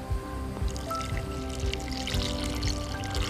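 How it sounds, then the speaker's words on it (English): Water pours into a cooking pot holding roasted duck and chestnuts for a stew, a steady splashing stream close by with no talk over it. "I need to add in some water"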